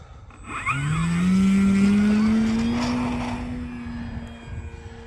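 An FMS Pitts radio-controlled model airplane flies overhead, its small engine whining upward in pitch as prop speed picks up in a turn, loud and steady before fading slightly.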